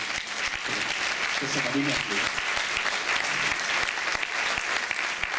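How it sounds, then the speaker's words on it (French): Audience applause at a folk dance festival, where a quadrille is performed, rewards an artist. The clapping is steady and dense throughout, with a few voices speaking over it. "Vous pouvez l'applaudir encore."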